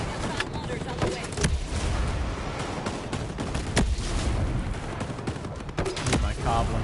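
Mortar fire and explosions rumble through a Ghost Recon Breakpoint firefight, a dense, continuous barrage with repeated sharp blasts and cracks layered over background noise.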